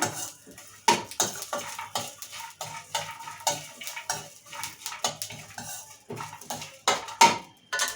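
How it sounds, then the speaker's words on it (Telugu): Coconut and peanuts are dry-roasted in a pan, with a spoon or spatula scraping and clinking against the metal in irregular, repeated strokes, close and fairly quiet. "ఇక కొబ్బరి పల్లీలు ఇవన్నీ వేసాం కదా మంచిగా ఇట్లా దూరంగా వేయించుకుందాము"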